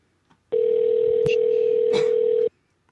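Telephone dial tone sounding alone as a single steady two-second tone, with small clicks over it while a studio number is dialed.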